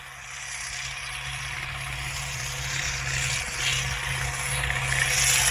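An off-road vehicle pushes through mud with its engine revving hard, a steady mechanical drone that grows gradually louder, with no talk.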